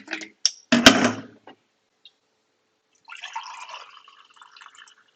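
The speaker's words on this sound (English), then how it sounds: "I've mastered the pour of this jug for the last cup" Coffee is poured from a jug into a cup at a cafe: a few sharp clinks and clatters come first, then after a brief silence a soft, close trickle of liquid runs for about two seconds, with no talking.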